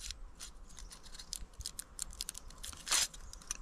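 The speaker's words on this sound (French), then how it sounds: "on va venir découper une forme aux extrémités" Scissors snipping a shape out of a folded paper rectangle, a close run of quick crisp cuts with one longer slicing stroke near the end.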